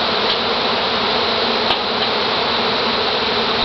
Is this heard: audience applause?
no